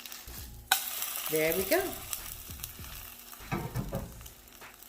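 Breakfast food cooks in an Always Pan, a 2.6-quart nonstick sauté pan, with a light sizzle under bursts of spatula scraping and stirring clatter. A voice speaks briefly near the start.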